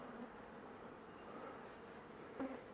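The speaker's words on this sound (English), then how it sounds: "this is old number 1 hive" Honey bees hum faintly and steadily around a hive during a January honey harvest, a soft continuous buzz with no talking.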